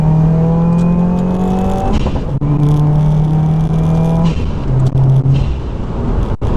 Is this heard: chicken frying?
no